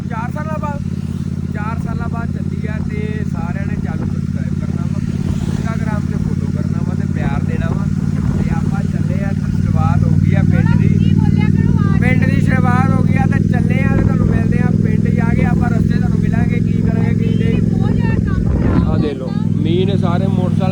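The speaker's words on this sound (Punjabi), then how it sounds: "ਮਟਿਓਰ ਤੇ ਪਹਿਲੀ ਯਾਤਰਾ ਕਰਨ ਲੱਗੇ ਆ" A Royal Enfield Meteor motorcycle on the road, its engine a steady, low drone that grows slightly louder midway, while someone talks continuously over it.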